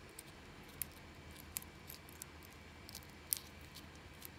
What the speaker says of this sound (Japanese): この余ってる部分を ハサミでカット。